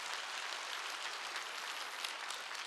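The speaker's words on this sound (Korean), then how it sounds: "박수 좀 쳐줘요" A congregation at a Wednesday church service claps together in steady, fairly soft applause, an even patter of many hands throughout.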